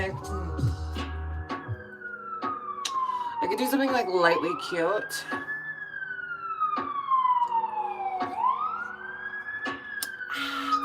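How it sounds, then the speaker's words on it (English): Emergency sirens wailing in downtown Toronto, slow rising and falling sweeps repeating at a moderate distance, with someone talking over them. "Do you guys hear the sirens here in the downtown heart of Toronto?"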